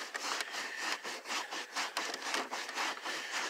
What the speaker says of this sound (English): find your clean side to your microfiber cloth, just like that. Go up in here and just put some elbow grease and just rub it like this